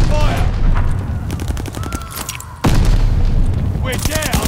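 Call of Duty Vanguard Hardpoint match on the Dome map: loud rapid gunfire bursts and booming explosions in quick succession, a heavy blast near the middle, with in-game voice announcements over the battle.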